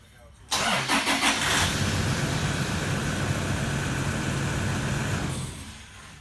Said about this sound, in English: what it took to start the engine